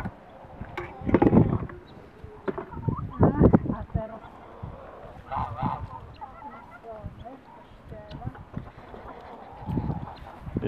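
Geese honk in several loud bursts among other fowl, with quieter clucking and farmyard chatter between the honks.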